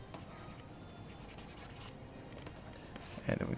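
Loose pencil gesture drawing on paper, with continuous scratchy strokes and light scraping rubs up close, a few brief louder accents, and no talking.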